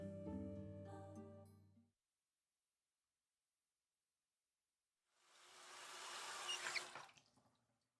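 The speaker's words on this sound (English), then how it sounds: "The dishes are done. I turned off the faucet in the sink and dried my hands with a towel." Water runs from a sink faucet while dishes are washed in a video game, a steady hiss rising near the end after music fades into silence, then cutting off.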